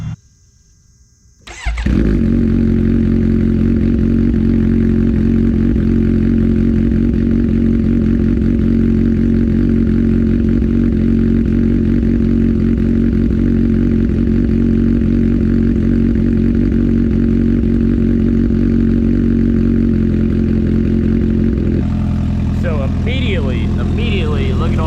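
Kawasaki H2 Carbon motorcycle with a Vandemon full exhaust fires up after a brief starter whir, then settles into a loud, steady, deep idle close by, with talk over the end.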